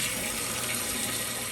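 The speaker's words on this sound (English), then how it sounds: "Couple minutes of hose and all this water and mud." A garden hose sprays water steadily into a muddy hole, making a continuous loud hiss and rushing sound that fills the whole moment without pause.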